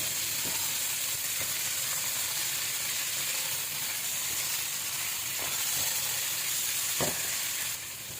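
Bacalao fries with bell pepper and other vegetables in a pan, giving a continuous even sizzle with a few soft knocks of a utensil, no talking.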